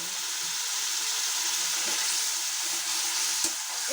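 Spice paste with coriander powder and the spice-rinsing water frying in hot oil for a potato and flat bean curry, a steady close sizzle with soft stirring scrapes and one sharp clink near the end.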